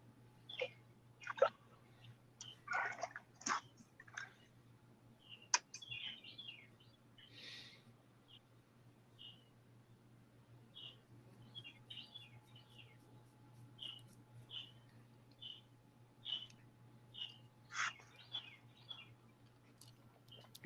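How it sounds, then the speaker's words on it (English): Small birds chirp and tweet by a creek, scattered short calls coming and going at moderate distance over a quiet, faint background hum. "You can hear the birds chirping in the background."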